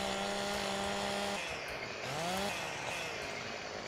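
A chainsaw in the farming game Farming Simulator 15 revs with a steady engine drone that wavers and dips partway through, mid-distance and alone without talk.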